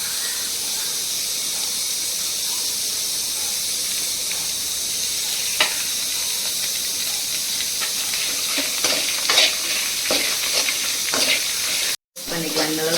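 Dried red chillies and curry leaves sizzle steadily in an oil-filled pan, a constant close hiss with occasional crackles and pops, and a brief drop-out near the end.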